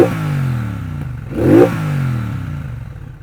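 A Triumph Bonneville Bobber 1200 motorcycle engine runs loud and close, its steady throb rising in a sharp rev near the middle before settling back down.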